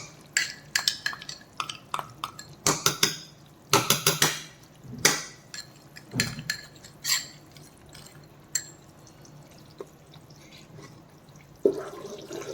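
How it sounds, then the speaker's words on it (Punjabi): A spoon scrapes and clatters in a pan as roasted edible gum is mixed into flour, irregular metallic knocks and stirring scrapes close by, busiest early on, then quieter. "ਮਿਕਸ ਕਰਾਂਗੇ ਵਿੱਚ ਇਹਦੀ ਤਾਂ ਕਿ ਆਟੇ ਦੇ ਵਿੱਚ ਇਹ ਆਪਦਾ ਵਧੀਆ ਪੱਕ ਜਾਵੇ"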